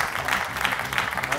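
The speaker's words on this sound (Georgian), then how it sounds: "აპლოდისმენტები" Studio audience clapping on a Georgian comedy game show, a steady wash of applause running the whole time with voices talking over it.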